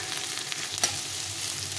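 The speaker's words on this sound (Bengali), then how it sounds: "তো এভাবে নরম করে একটু পেঁয়াজটাকে একটু ভেজে নিতে হবে।" Onions fry gently in a little oil in a pan, giving a soft, even sizzle with one faint utensil tap.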